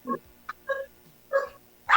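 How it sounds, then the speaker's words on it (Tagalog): Puppies bark in a handful of short, sharp yips spaced across two seconds, close by and fairly loud, with no voices between them. "mga aso po yun, sir. Aso. Tumatahol, oh."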